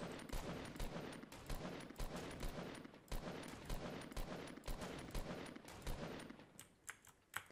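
Fortnite gunfire, a long run of quick crackling shots at fairly low level, dense and continuous before thinning into scattered pops near the end.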